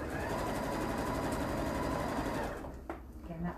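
Sewing machine stitching a French seam with a quarter inch foot, running steadily and close for about two and a half seconds before slowing and stopping, followed by faint handling noises.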